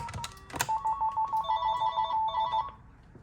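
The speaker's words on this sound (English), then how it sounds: "Let's give this phone a call and see what it can do." A thrift-store telephone rings in a short electronic warble of repeated bright tones, starting after a brief clatter and lasting about two seconds before stopping.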